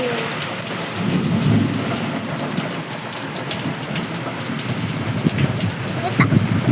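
Heavy rain pours down steadily during a thunderstorm, a dense, loud, continuous wash of drops with rumbles of thunder underneath and no talking.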